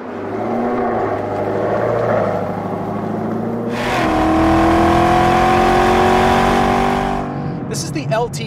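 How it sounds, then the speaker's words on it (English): Camaro ZL1 with its LT4 V8 pulling hard, a loud rising engine note that climbs and holds, heard from the cabin with someone talking at the end. "This is the LT4 V8, which also lives in the C7 Corvette Z06 and the Cadillac CTS-V."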